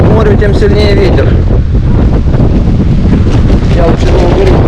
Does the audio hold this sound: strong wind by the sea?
yes